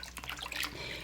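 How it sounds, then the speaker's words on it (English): Clean water splashes and pours into a bowl for rinsing, a brief, close, bubbly gush with no talking. "I'm gonna go right over here and get some more clean water"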